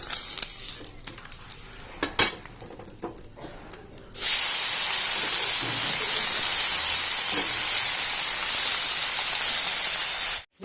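Boroli fish frying in a pan for a fish curry. Scattered clinks and faint sizzling come first, then a loud, steady hiss of spitting oil that starts abruptly and carries on close and unbroken until it cuts off at the end.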